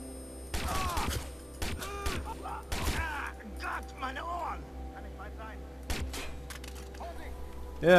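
Bursts of gunfire in the video game Watch Dogs crack out in several volleys, sharp and loud, with a voice talking over parts of it.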